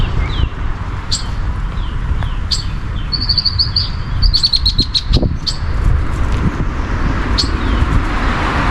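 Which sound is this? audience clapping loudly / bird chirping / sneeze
bird chirping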